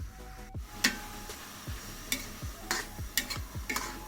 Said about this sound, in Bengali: লবণ চিনি আর ঘি ভালোভাবে মিশিয়ে নিচ্ছি একটু সময় নিয়ে মিশাইতে হবে